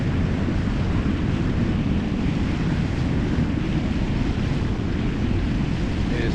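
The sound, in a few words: boat cruising on Lake Huron, water and wind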